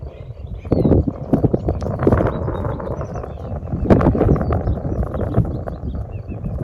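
A Rocky Mountain Horse walks with steady, close clip-clop hoofbeats in an even four-beat rhythm, with no voices.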